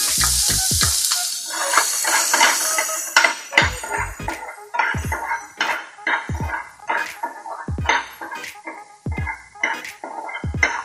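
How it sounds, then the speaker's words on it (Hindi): Garlic and chopped onion fry and get stirred in a pan for kurma, a steady sizzle broken by repeated sharp scrapes of a spoon against the metal. "वो गार्लिक डालेंगे, इसको थोड़ा मिक्स करेंगे। इसमें हम चॉप अनियन डालेंगे,"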